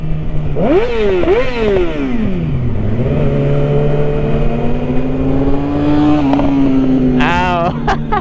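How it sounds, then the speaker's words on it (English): Loud dirt bikes ride past, their engines revving in rising and falling sweeps over a steady engine drone and wind rush, with a sharp burst of revving near the end. "the dirt bikes are so loud"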